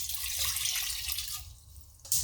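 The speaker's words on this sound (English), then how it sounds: "And then our 2 cups of filtered water." Filtered water pours steadily into a medium saucepan holding cut-up potatoes, a continuous close splashing rush that changes tone near the end before a brief final splash.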